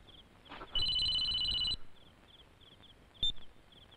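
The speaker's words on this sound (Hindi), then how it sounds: "दुष्यंत का फोन है" An electronic telephone rings in one clear, steady burst lasting about a second, followed by a brief short chirp, heard faintly against a quiet room.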